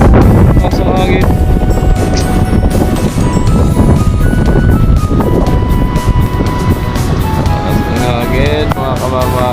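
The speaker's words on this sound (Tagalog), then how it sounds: "Lakas ang hangin." Strong amihan wind buffets a boat at sea on a voyage to Masbate, roaring steadily and loudly across the microphone with engine and water rumble underneath and voices talking throughout.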